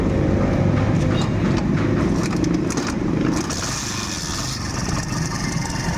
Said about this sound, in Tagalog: Ayan, ang ingay po ng makina niya mga brothers oh.